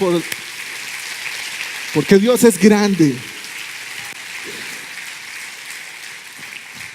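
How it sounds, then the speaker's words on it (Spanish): A church congregation claps in a continuous rain-like patter, with a voice speaking loudly over the applause for a moment before it carries on alone. "¿Quién le da un fuerte aplauso?"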